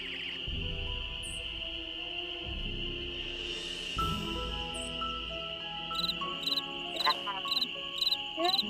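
Chirping in the Nancy Drew: Ghost Dogs of Moon Lake adventure game, a steady insect-like tone over ambient night sounds, with a run of rhythmic repeated chirps toward the end.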